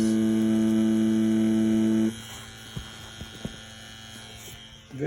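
A tattoo machine fitted with an InkClaw needle cartridge and running at 8 volts gives a steady, loud electric hum for about two seconds, then cuts out, leaving a few soft clicks and knocks.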